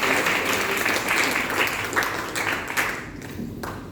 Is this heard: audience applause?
yes